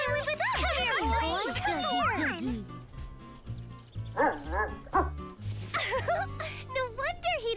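A cartoon dog barks and yips in a playful, excited burst, loud and close, mixed with bright character voices and background music throughout.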